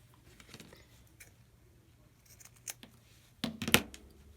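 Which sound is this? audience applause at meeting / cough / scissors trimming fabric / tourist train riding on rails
scissors trimming fabric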